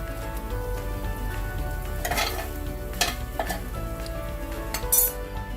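Steak meat sizzles on a hot cooking surface with a steady frying hiss, broken by several sharp clinks and scrapes of utensils as pieces are laid down.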